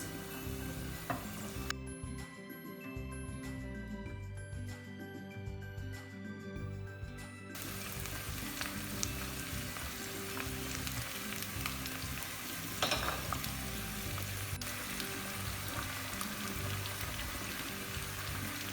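Peppers and oyster mushrooms sauté in a hot pan, giving a continuous close frying hiss with light crackling and occasional stirring scrapes, with no voices present.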